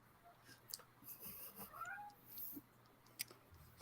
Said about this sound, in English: yeah, that was my cat. I can hear him